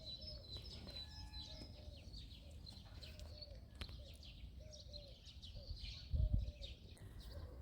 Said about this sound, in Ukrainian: Пташки співають, весна вже настояща прийшла.